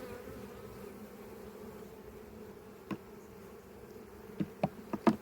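Bees buzz steadily around a hive nest up close, a continuous drone with a few sharper buzzes as individual insects fly near.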